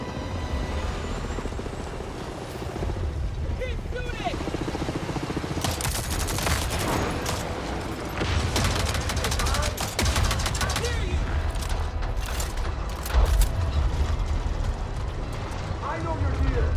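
Rapid gunfire pelts the player in a shooter video game, dense bursts of shots and impacts crowding over a rumbling mix, loudest in the middle and near the end, with game noise throughout.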